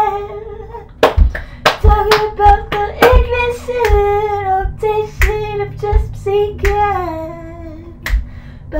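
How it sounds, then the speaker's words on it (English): Sharp hand claps and snaps land in a loose rhythmic pattern within a song, cutting through a sung melody at fairly close range and loud. "Snapping, clapping, clapping, snapping, yeah."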